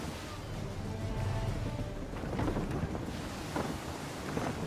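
Wind gusts and creaking sailing-ship sounds at sea in the video game Assassin's Creed III form a steady, fairly loud broadband roar that swells and eases, with no voices present.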